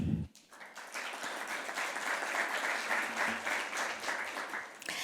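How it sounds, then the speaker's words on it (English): A housing summit audience gives a steady round of applause, starting after a brief pause and holding at an even, fairly loud level before tapering at the end. "I want to give them all a big round of applause."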